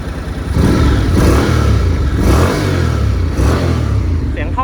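A 2013 Honda Integra 700 motorcycle engine runs close by, a steady loud rumbling idle that settles in after a brief start and holds evenly throughout.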